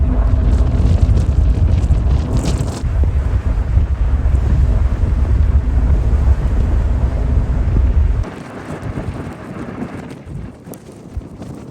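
Strong wind buffets the microphone on the deck of the Irish Ferries Ulysses, a loud, steady roar that drops abruptly after about eight seconds to a softer rush of wind and sea.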